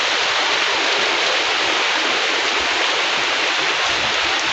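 Heavy rain roars down outdoors in a thick, unbroken hiss, loud and constant throughout with no voices, while a worker's machine sits stopped after being soaked by the downpour.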